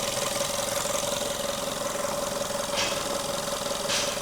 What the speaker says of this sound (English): Okay, I will stop the engine now.